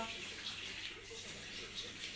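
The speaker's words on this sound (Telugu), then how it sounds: "బాగా కలుపుకొని వాటర్ పోసుకుంటూ కలుపుకోవాలి." Water poured into flour while boondi batter is mixed, giving a steady, soft splashy trickle with faint wet stirring, close and moderately quiet throughout.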